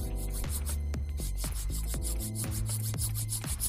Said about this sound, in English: After filing with normal filing steps, we will go with a smooth operator to be sure that we are removing all the scratches from the previous files